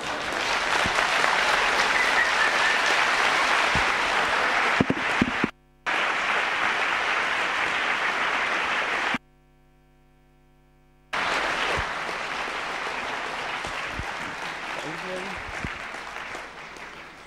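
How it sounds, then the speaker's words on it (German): An audience applauds a speaker at a conference hall, a dense, steady wash of clapping that breaks off briefly, falls silent, then resumes at full strength until the end. "vielen Dank für den Applaus"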